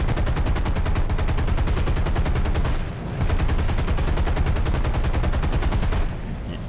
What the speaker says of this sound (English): B-17 over Berlin at 600 feet, using its defence gunners to strafe out soft targets